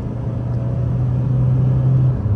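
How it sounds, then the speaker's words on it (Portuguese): A 2020 Toyota Hilux SRX pickup accelerates, heard as a loud, steady engine rumble and drone from inside the cab. The hum climbs slightly in pitch and holds, with no voices. "Vamos ver como é que ela se sai aqui acelerando."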